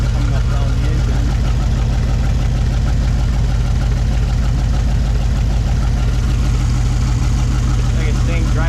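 The engine of a 1953 Studebaker Starliner runs steadily at idle, a continuous close, loud mechanical drone with a slight knocking texture and no talk.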